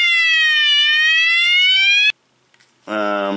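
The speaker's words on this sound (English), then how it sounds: "Alarm." Alarm mode on a roadside emergency auto kit light gives a loud, piercing electronic wail that sweeps in pitch, then cuts off abruptly and restarts after a brief silence.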